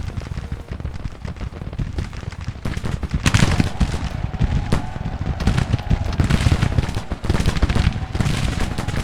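Dense musket volleys from Civil War brigades in the Grand Tactician: The Civil War strategy game, a continuous crackle of overlapping shots with heavier booms mixed in, loud and unbroken throughout.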